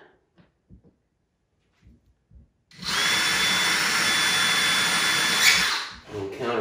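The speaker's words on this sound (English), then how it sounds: "I'm countersinking with this large drill bit." A power drill with a large bit countersinks into floor underlayment, a loud, steady whirring grind lasting a few seconds after some quiet knocks and handling noises.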